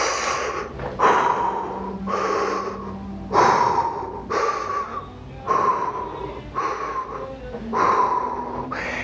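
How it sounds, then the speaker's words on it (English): Heavy rhythmic diaphragm breaths, roughly eight forceful exhales and inhales in steady cycles, taken while lifting a 16 kg kettlebell, close and fairly loud with no talk over them. "And so I'm breathing, maintaining pressure throughout that lift."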